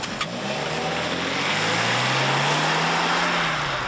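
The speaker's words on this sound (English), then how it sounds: "hard acceleration runs in front-wheel drive mode to check if there was any torque steer off the line" A 2025 Chevrolet Equinox ACTIV accelerates hard from a standstill in front-wheel drive, its engine note climbing steadily in pitch as it pulls, heard from inside the cabin with road and wind noise beneath and no talking.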